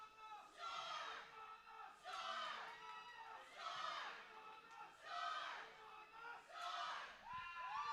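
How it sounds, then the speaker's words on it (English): A roller derby tournament crowd cheers and yells in repeated swelling waves, each surge rising and falling about every one and a half seconds, loud and close with shouting voices. "Great cheering happening here."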